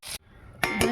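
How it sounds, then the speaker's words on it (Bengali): A metal lid set onto a cooking pot of thin fish curry with potatoes, a sharp clank followed by a second quick clatter as it settles, close and brief. "এবার ঢাকা দিয়ে দেব।"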